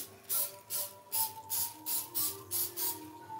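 Cooking spray hisses onto a waffle iron in a run of about seven short, evenly spaced bursts, fairly close and alone, with a faint steady tone underneath.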